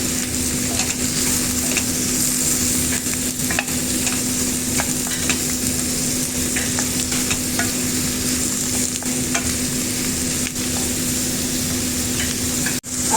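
Beef sizzles steadily in a hot pan while a utensil stirs it, sending scattered scraping clicks over a continuous close frying hiss with no pauses.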